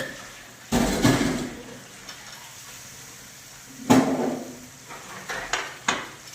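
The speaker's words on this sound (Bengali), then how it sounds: "এবার আমি ফুলকপি আর আলুগুলো দিয়ে দেবো।" Cauliflower and potatoes are dropped into a pan of spices fried in oil, giving a few sharp clatters and bursts of sizzling with spoon scrapes between quieter stretches.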